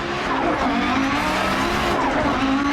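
In DiRT Rally on the Pikes Peak hill climb, a rally car brakes hard and skids on the handbrake. Its engine drones loudly under a long, continuous tire squeal that holds for nearly three seconds.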